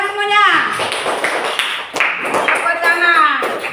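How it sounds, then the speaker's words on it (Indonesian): A classroom of children clapping together in a steady, dense burst of applause. Children's voices call out over and through the clapping the whole time. "Ya, tepuk tangan semuanya."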